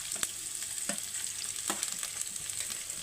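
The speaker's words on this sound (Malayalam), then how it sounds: "സവാള ഇട്ട് കൊടുക്കാം ക്യാരറ്റും അതിൽ കൂടി തന്നെ ഇടാം" Onion and carrot sizzle in a hot pan for upma, a steady close hiss of frying with occasional scrape and stir knocks, and no voices.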